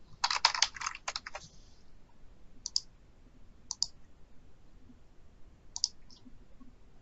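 Quick bursts of keys clacking on a computer keyboard, a rapid flurry at first, then a few isolated keystrokes in a quiet room.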